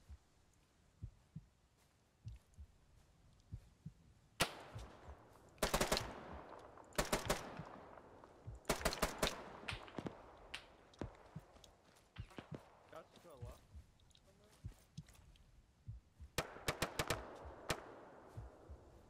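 Full-auto rifle fire in the video game Arma 3 during a night operation: repeated short bursts of rapid shots, some close and loud, others fainter and distant, scattered across a tense firefight.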